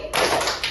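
A single sharp hand clap from a classroom clapping game, close and fairly loud, ringing briefly in the room with no talk over it.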